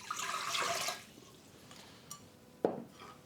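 Warm water pours into a bowl for dough in a home kitchen, a short splashing rush at the start that fades into faint trickles, followed by a couple of small clinks.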